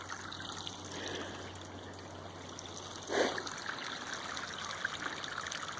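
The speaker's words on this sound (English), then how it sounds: "Now all of a sudden there's quite the babbling little brook here." A babbling brook fed by an underground spring runs outdoors, giving a steady, faint trickle and gurgle with one brief, slightly louder splash midway and no voices.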